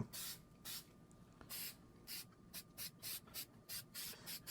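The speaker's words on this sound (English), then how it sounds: "Then you just take spray glue" Short bursts of spray glue hiss from an aerosol can, several quick puffs in an uneven rhythm, close and fairly quiet, with no one talking.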